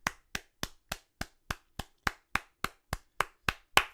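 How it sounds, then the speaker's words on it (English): Single person clapping slowly and evenly, about thirteen crisp, close claps at a steady rhythm with silence between them, no talking. "I think that deserves a clap."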